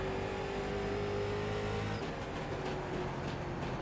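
A late model stock car engine in the iRacing sim at Pensacola drones steadily and loudly with a sustained tonal whine, holding a constant pitch that dips slightly partway through, with no talking.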